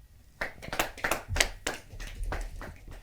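Scattered clapping from an audience at a Hindi kavi sammelan during an honouring on stage, a handful of sharp claps rising and tapering over a few seconds, fairly close and not very loud.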